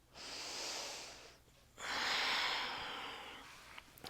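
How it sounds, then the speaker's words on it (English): During a yoga flow, two long, close breaths are heard: a drawn-out airy inhale, a short pause, then a fuller, louder exhale, with no talking. "Last breath here."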